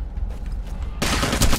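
Video game gunfire erupts after a quiet moment, a sudden dense burst of rapid automatic shots that stays loud and continuous through the last half second.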